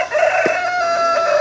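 A rooster crows loudly and close by, a sustained, strained call that holds steady for the full moment, with farmyard ambience behind it.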